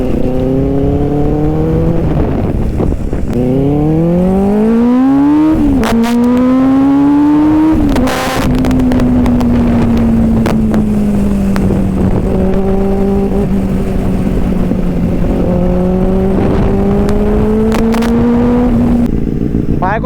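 A Benelli 600i motorcycle accelerates through several gears, its engine pitch climbing in stepped rises before holding a long steady cruising note, loud and close under wind noise.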